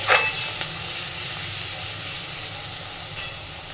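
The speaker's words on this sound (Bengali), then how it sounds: "পেঁয়াজ খুব সুন্দরভাবে ভাজা হয়ে গেছে" Steady sizzling from onions frying in a pan, a soft continuous crackle with a brief louder burst at the start, no voices.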